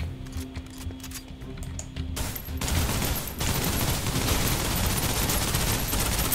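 Suppressive gunfire in the video game Snowbreak: a dense, roaring wall of rapid shots surges in after a quieter stretch and holds steady and loud to the end.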